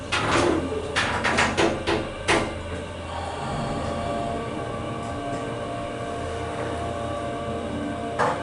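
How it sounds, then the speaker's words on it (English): A hydraulic elevator door at a Philadelphia transit center platform slides shut. It opens with a cluster of clunks and rattles, then settles into a steady mechanical hum as the car sits closed. "Door close button works."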